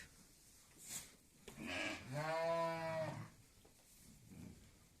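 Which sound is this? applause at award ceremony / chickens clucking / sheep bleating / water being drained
sheep bleating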